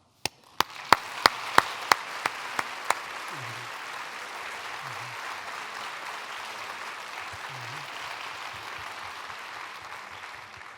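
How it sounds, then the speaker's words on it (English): A few sharp, separate claps open, then a sustained wash of applause from a conference audience continues steadily to the end. "You can hear from the applause now"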